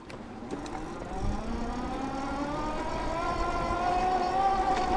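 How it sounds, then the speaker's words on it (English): A Tower Beach Bum 2 electric cruiser bike's 500-watt motor whirs while climbing a hill, a steady, higher-pitched whine that rises gradually in pitch as the bike accelerates, with faint wind and road noise underneath. "The motor has a little bit higher pitched whirring noise."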